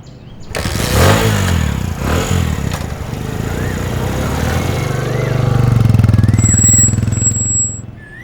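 A motorcycle engine starts with a few sputtering cranks and then idles and revs with a steady low rumble that swells as it rides off, loud and close.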